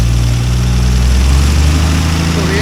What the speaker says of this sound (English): I'm turning on the headlights and revving it up